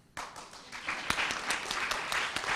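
Applause breaks out abruptly at a comedy show, starting from near silence and swelling into steady clapping from a moderately sized audience, with sharper individual claps rising above the wash.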